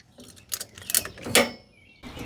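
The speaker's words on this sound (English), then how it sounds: "So we put a ratchet strap on here just to pull it in." Ratchet strap being tightened on a Nissan 240SX car frame, giving a few quick clicking ratchet strokes and a creak, close and fairly faint.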